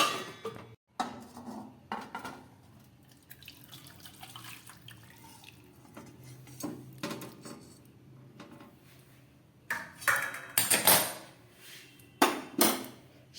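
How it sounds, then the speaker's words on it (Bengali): Boiled chicken and its cooking water being poured into a bowl in a home kitchen, giving close splashing and clattering bursts, with brief clinks of the pot against the bowl toward the end. "সিদ্ধ করার জল সমেত চিকেনটাকে আমি বাটিতে ঢেলে দিলাম।"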